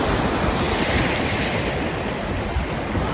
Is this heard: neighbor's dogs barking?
no